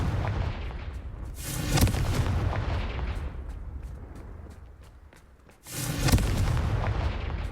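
Confringo blasting spell explosions in the Hogwarts Legacy video game: two heavy, booming blasts with rumbling tails, the first building around the two-second mark and the second hitting sharply near six seconds, loud and close.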